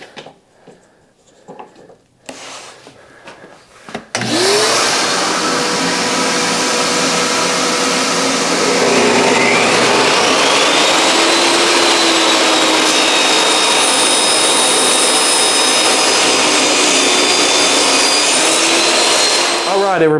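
A table saw spins up after a few quiet clicks and handling noises, then runs with a loud, sustained whine and rushing roar as wood is ripped along a taper jig, steady to the end.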